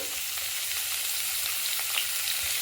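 Carrots sizzle in a frying pan with lightly fried vegetables for soup, a soft, even hiss of oil that holds steady throughout with no talking.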